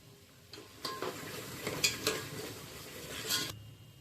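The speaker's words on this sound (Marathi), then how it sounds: "या चमच्याने लाल तिखट चांगलं भाजून घ्यायचं आहे तेलामध्ये" Red chili powder roasts in hot oil under a spoon, giving a low sizzle broken by sharp metal clinks and scrapes against the pot, loudest in the middle, then falling away.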